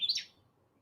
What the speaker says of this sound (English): apparently the bird has been identified as a wren